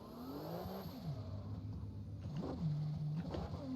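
A Toyota 2JZ engine runs at high revs close to the red line without hitting the limiter, a loud sustained drone that swells in repeated rising sweeps, with no talking.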